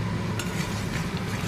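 Spices with chili powder being stirred and fried in a pan at close range, a steady scraping and sizzling texture with a few sharper utensil clicks, continuous throughout and without any talking.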